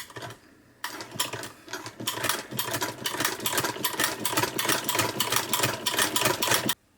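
Sewing machine fitted with a Greist rotary buttonholer attachment stitching a buttonhole with a steady, rapid mechanical chatter that starts abruptly after a short quiet lead-in and runs loud and even for about six seconds before stopping.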